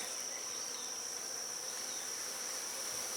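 Bees buzz steadily during a honey harvest from beehives, a continuous high insect drone at moderate volume with no voices.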